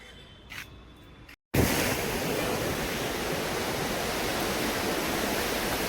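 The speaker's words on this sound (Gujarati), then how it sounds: "તો ફાઇનલી અત્યારે આપણે પહોંચ્યા છે દરિયા કિનારે" Steady broadband wash of sea waves at the seashore, a continuous loud surf roar that begins abruptly after a short quiet gap and holds evenly to the end.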